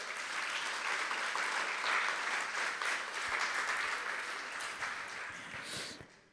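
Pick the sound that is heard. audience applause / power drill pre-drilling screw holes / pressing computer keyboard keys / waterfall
audience applause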